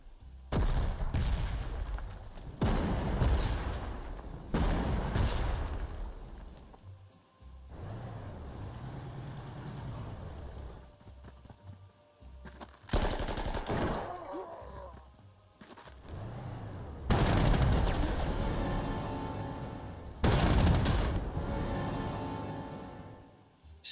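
Artillery fire in the Panzer Corps 2 video game, with heavy booming blasts arriving in separate bursts, each loud and rumbling before fading, plus low engine rumble between them and someone talking over it.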